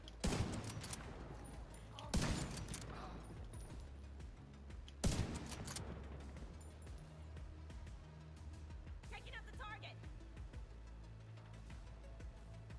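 Heavy gunfire from The Division 2 on realism mode, loud bursts and sharp volleys at the start and near the two- and five-second marks, then steady battle noise with scattered shots continuing throughout.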